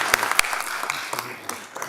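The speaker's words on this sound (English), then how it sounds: "one more big round of applause for you" Applause from the audience at a city council meeting honoring the Public Works team, a short burst of clapping that stays steady and moderately loud throughout.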